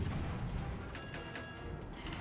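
A tank cannon in a video game fires an armor-piercing round, heard as a low, sustained rumbling boom with faint mechanical clanks over it, dense and fairly loud without any voices.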